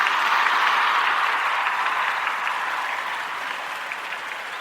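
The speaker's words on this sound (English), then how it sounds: "Let's go ahead and give her a clap" A crowd applauds steadily in dense, continuous clapping that holds strong throughout and eases only slightly toward the end, with no talking over it.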